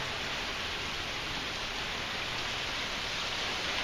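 Heavy rain pours down during a thunderstorm in a loud, dense, unbroken hiss that stays steady throughout, with no thunder or voices.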